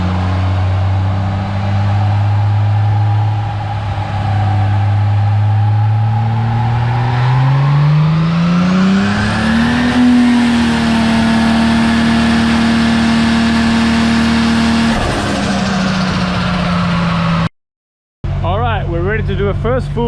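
A rebuilt Toyota Supra GT-300 with a 2JZ-GTE engine runs on a dyno, holding a steady drone before climbing smoothly in revs and settling at a higher pitch, loud and close, then dropping off abruptly.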